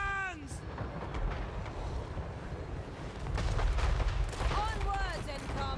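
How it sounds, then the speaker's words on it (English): Cannon fire in a Total War: Warhammer 3 battle, with dense booming gunfire and rumbling explosions layered over battle noise, while shouted unit voice lines rise over the din. "Cannons!"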